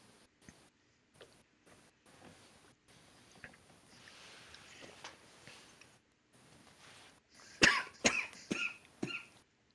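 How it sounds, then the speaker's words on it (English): A person coughs and clears their throat in a burst of several close, harsh coughs near the end, after quiet stretches with faint room noise and scattered soft sounds. "I've had coughs for like the past couple weeks"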